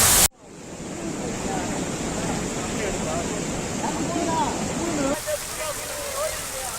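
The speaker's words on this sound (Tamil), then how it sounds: "கனமழையால் தேனி மாவட்டம் மேகமலை அருவியில் திடீர் வெள்ளப்பெருக்கு." A sudden flash flood pours over Meghamalai waterfall in Theni district after heavy rain, a loud, steady rushing roar of water that fills the scene, with a voice speaking over it.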